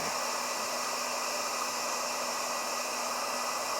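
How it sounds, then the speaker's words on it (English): A heat gun shrinks heat-shrink tubing over trailer wiring during a Curt powered tail light converter install on a 2025 Kia Carnival, blowing a steady, close, unbroken roar of hot air for the whole few seconds. "we can come back with that heat shrink heat gun here and just heat that up"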